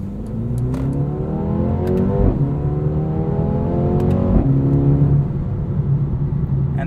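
Engine of a 2020 Mercedes-AMG A35 sedan, all-wheel drive, pulling hard under acceleration from inside the cabin, with a loud, close, rising drone and two quick gear shifts that drop the pitch before it climbs again.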